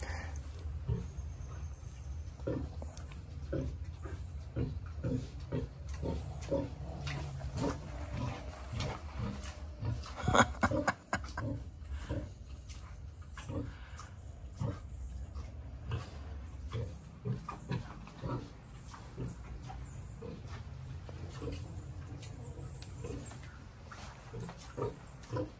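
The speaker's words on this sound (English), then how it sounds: "where I'm hoping to find three pigs" Pigs on a farm grunt and snort in a busy, irregular series of close, fairly faint sounds over a low steady background hum, with no talking.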